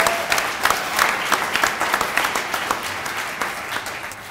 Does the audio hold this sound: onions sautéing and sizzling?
no